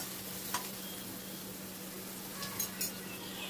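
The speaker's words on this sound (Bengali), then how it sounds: "টমেটোটা দিয়েও আমি সব কিছু ভালো করে মিশিয়ে নিচ্ছি, একটু নাড়াচাড়া করে দিচ্ছি।" Onion and chopped tomato fry in a pan with a steady, even sizzle and low hum while being stirred. A few soft clinks of the spoon against the pan break through, and no one talks.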